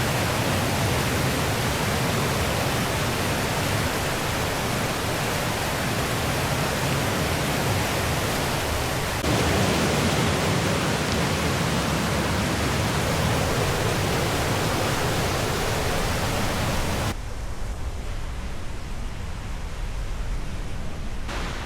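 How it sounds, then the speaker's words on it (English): A roaring waterfall along a mountain hiking trail near Lost Lake, a loud, unbroken rushing wash of falling water that shifts slightly in tone partway through. "Didn't realize there were quite so many waterfalls on this trail."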